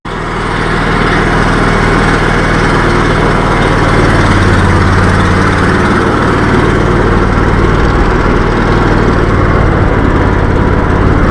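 A small engine on a 2-wheel-drive Legacy XL compact tractor drones loudly and steadily nearby, revving up at the start then holding a constant rough hum throughout.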